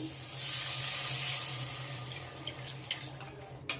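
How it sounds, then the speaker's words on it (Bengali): Water poured from a jug into a pan of fried mustard paste for a Bengali shol fish curry, a steady close splashing pour that tapers off over a few seconds, with a light clink at the end. "পরিমাণ মতো দিয়ে দেব জল"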